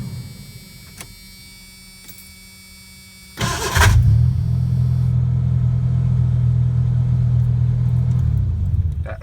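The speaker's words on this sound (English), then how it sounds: "when it disengages the flywheel, it grinds" A starter on a 1986 Ford Ranger gives a short, harsh grinding burst as the engine catches, the starter gear disengaging from the flywheel. A steady, loud idle rumble follows and runs to the end, with no talk.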